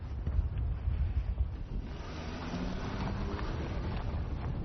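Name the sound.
strong wind blowing on a high mountain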